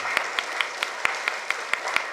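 Steady, evenly spaced claps at a health workshop, about four or five per second, moderately quiet and without talk.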